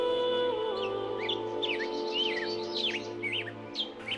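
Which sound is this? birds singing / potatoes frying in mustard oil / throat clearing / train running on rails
birds singing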